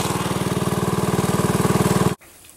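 A small go-kart engine chugs loudly and close by in a rapid, even pulsing rhythm, then cuts off abruptly, leaving quiet background noise.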